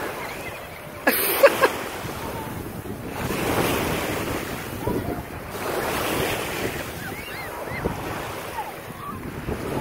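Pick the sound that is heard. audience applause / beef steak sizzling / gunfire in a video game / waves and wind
waves and wind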